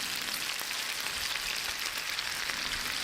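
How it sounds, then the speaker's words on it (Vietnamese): Chicken frying in a pan over low heat with garlic and shallots: a steady, even hiss and crackle of sizzling oil throughout, moderately close, with no talking. "Tiếp tục mình để lửa nhỏ và mình chiên."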